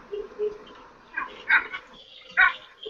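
Two puppies giving short, high yips and whimpers, a few soft cries early on, then sharper barks in separate bursts, close by and fairly quiet.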